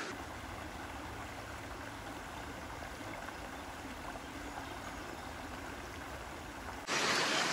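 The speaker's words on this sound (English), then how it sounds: "So I'm out here at a place called Reynolds Creek" Reynolds Creek, a small stream, flows with a steady, even rush of water throughout, becoming brighter and louder for the final moment.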